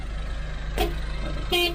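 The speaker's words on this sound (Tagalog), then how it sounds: "Yung horn, ayan, napakaganda." Two short honks of an Every Wagon car horn, close and loud, separated by a brief pause over a low idling engine hum.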